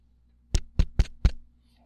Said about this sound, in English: a knocking was heard at the city gate